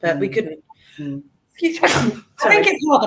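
A single sharp sneeze bursts out in the middle of a spoken conversation, loud and close, with people talking before and after it.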